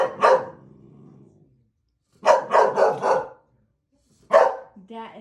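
A big dog barks nearby in deep, loud bursts: one bark, then a pause, then a quick run of four barks and a final single bark, with silence between the groups.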